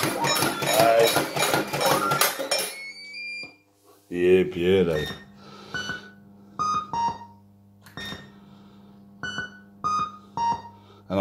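A crown laser conversion machine runs with a dense, rapid mechanical chatter for a few seconds, then falls quiet except for a low hum, scattered short beeps and tonal chirps.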